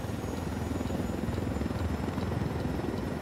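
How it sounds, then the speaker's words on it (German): Helicopter in Ghost Recon Wildlands, a steady loud rotor thrum and engine drone filling the whole stretch with no break. "Ich habe vor, mit dem Heli in das Gebäude reinzukrachen."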